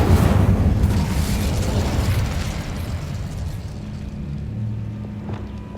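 An Incendio fire spell cast in Hogwarts Legacy gives a loud, rumbling fiery whoosh-burst that starts at full strength and slowly fades into a low crackling roar.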